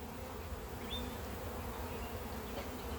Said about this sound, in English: See if I can get these bees off of here.